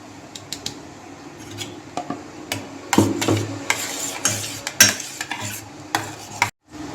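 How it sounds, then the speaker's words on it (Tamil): Bread pieces are stirred into an egg pudding mixture in a bowl, with irregular scraping and clinking strokes of a utensil against the side, close and fairly quiet, ending abruptly. "இதையும் இப்போ போட்டு மிக்ஸ் பண்ண போகிறேன்."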